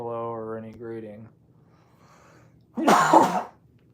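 Someone speaks briefly, then after a pause gives one loud, rough cough close to the microphone.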